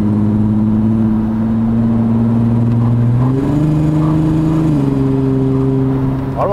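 A VW Golf MK2 carrying a swapped R32 engine with 4x4 and DSG revs hard, its exhaust holding a loud droning tone that steps up in pitch twice, close and strong.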